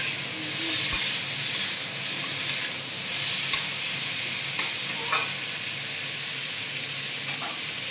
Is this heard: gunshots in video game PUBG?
no